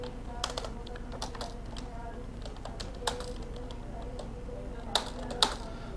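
Computer keyboard typing while text is entered in a text box in InPage Urdu: irregular soft key clicks scattered throughout, with a few sharper louder taps, over a low steady room hum with faint talk.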